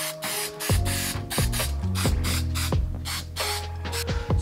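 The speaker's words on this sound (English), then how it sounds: "Spray both surfaces and then let it dry for about 5 minutes." Short hissing bursts of 3M Super 77 spray adhesive repeat in a rapid rhythm over a steady mechanical clicking, close and fairly loud, while coating a moped seat for upholstery.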